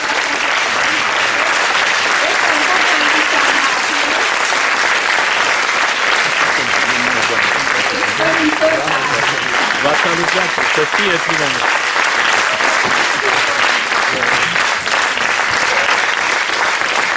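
A concert audience claps continuously and densely for a long stretch, applauding the technical crew at a Bartók memorial event. Someone talks over the applause.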